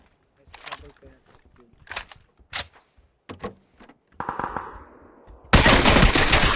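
Gunfire bursts out in a shooting video game, with several sharp separate shots followed by a dense sustained rattle of automatic fire at the end.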